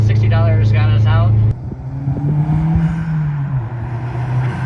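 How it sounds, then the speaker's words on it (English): A car passes close on a Mexican toll road, its engine drone rising and then sliding down in pitch. A voice talks loudly over the opening seconds. "there's a car coming now, so you probably can't hear this"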